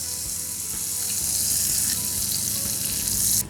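Prawns sauté in a pan for a Bengali chingri malai curry, a loud, dense, continuous frying hiss that stays steady close up and cuts off at the end.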